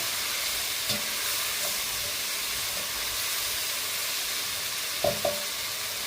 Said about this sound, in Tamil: போட்டு இதையும் ஒரு 5 நிமிஷம் நல்லா வதக்கி கொடுங்க